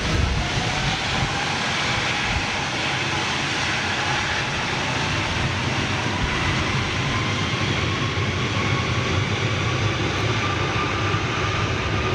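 An Airbus A330 jet airliner, powered by CFM56 or CF6 engines, roars steadily overhead near London Heathrow, a loud broadband rumble with a faint slowly rising whine lasting the whole stretch.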